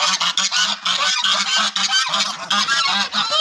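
A flock of geese honks steadily at close range, loud overlapping calls in a quick, uneven rhythm with brief gaps, and no voices.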